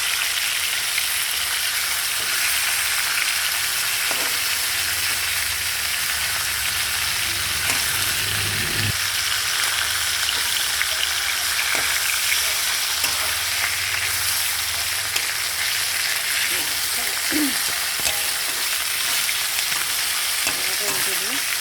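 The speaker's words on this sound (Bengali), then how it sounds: "মাছগুলো উল্টে দেবো। এক পাশটা হয়ে গেছে ভাজা।" Fish sizzles steadily as it fries in oil in a pan, with potatoes also in the cooking; a continuous, loud crackling hiss runs throughout, broken by a few brief stirring or scraping clunks.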